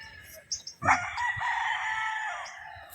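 A young rooster, a Sweater Boston stag about five to six months old at a gamefarm, crows once in a long sustained call after a couple of short clucks, fairly close and with no talking.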